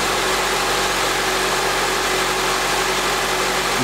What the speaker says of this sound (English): Now we've started the vehicle.